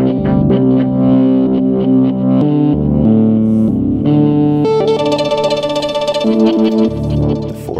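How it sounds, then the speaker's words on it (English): Violin loop processed by granular synthesis in VCV Rack, sounding as a loud, dense, effected tonal pattern of stepping pitches with a brighter, busier grainy texture in the last few seconds, no talking. "There's the violin loop you can hear."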